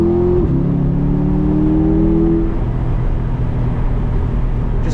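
C8 Corvette with a naturally aspirated 6.2 liter V8 accelerating on UK country B-roads, a loud close engine note rising in pitch through a rev before settling into a steady drone.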